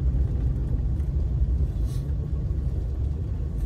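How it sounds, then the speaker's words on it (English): A vehicle drives along a rural back road, producing a steady, loud low engine and road rumble that continues unbroken with no talking. "I'm gonna drive back here and check it out."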